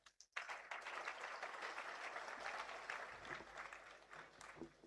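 Thin, faint applause from the audience at a Chhattisgarh political rally, a sparse patter of hands that starts abruptly and carries on at a low, steady level without much enthusiasm.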